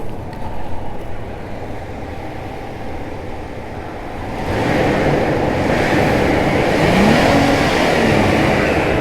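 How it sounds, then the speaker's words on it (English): A 2006 Toyota Land Cruiser Prado 120 with a 4.0-litre V6 petrol engine, at 282,000 km, is revved outdoors; a steady idle rises to a louder, sustained rev partway through, with wind noise over it. "please can you rev the car for me once?"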